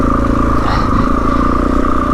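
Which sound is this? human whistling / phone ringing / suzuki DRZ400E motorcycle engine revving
suzuki DRZ400E motorcycle engine revving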